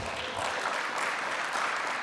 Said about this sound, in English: Let's give the biggest round of applause in